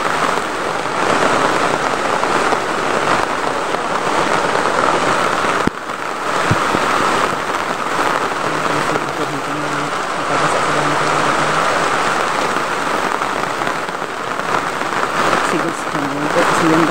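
Steady heavy rain pours onto a surface in the Philippines, a dense continuous hiss that stays loud for the whole stretch, with faint voices underneath and a brief dip partway through.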